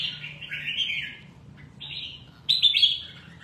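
Small perched songbirds chirp in bright, rapid bursts, a first run of tweets followed by a pause and then louder, sharper calls close by, with no talking.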